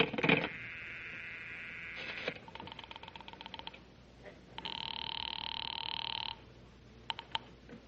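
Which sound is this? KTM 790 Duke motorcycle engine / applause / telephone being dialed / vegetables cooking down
telephone being dialed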